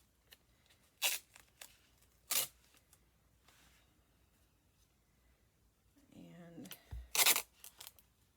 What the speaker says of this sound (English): I'm just using brown packing tape